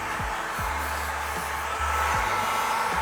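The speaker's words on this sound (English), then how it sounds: "grab your heat gun or hair dryer, get a little warmed up" A steady, loud whooshing roar of a heat gun blowing hot air to soften vinyl during a door skin installation runs continuously, with faint low clicks and hum underneath.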